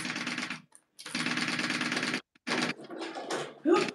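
A domestic sewing machine stitching a seam with back stitches, running in several short bursts of rapid whirring stitches separated by brief pauses, close and fairly quiet.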